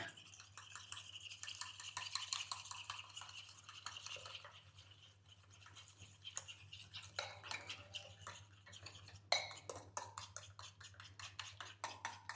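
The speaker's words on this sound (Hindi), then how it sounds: "तो बेसिकली इसके अंदर 2 एग डालने हैं, इनको अच्छे से मिक्स करना है।" Two eggs are whisked in a bowl with a utensil, producing quick, continuous scraping and clinking strokes that come through faint but steady over a low hum, with no voices.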